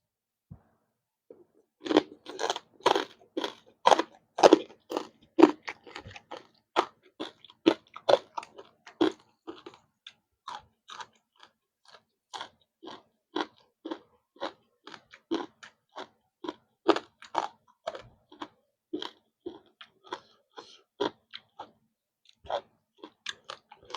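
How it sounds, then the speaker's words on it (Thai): Crispy pork tail from a spicy Thai-style papaya salad being chewed close up, with loud, rapid crunches that start sparse and then keep a steady rhythm throughout, without talk. "อืมหางหมูกรอบกรอบ"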